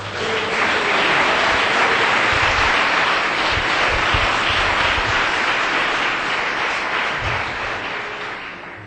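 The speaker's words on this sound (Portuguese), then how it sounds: "Pode dar uma salva de palmas para Jesus." A church congregation breaks into loud, sustained applause, a dense wash of many hands clapping that fills the room and tapers slightly toward the end.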